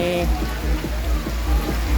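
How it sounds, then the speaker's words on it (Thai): Rain patters steadily on surfaces at an outdoor market in Thailand, a dense close hiss with faint dripping taps underneath. "วันนี้ฝนตกครับคุณผู้ชม"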